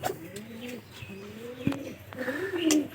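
Soft, repeated pigeon coos rising and falling close by, with a few chirps and faint background noise.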